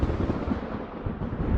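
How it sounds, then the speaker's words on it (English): A thunderstorm sound effect, triggered by a Lumia Stream webhook, plays as a continuous rumbling wash of rain with low, booming swells of thunder, loud and without speech. "Thunderstorm has been triggered."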